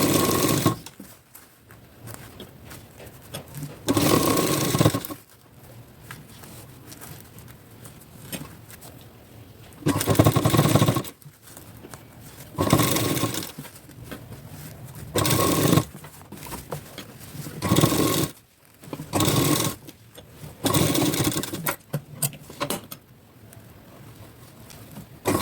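A sewing machine stitches a plain blouse with four tucks, running in loud rapid bursts of a few seconds each, separated by quiet pauses, close by and without talking.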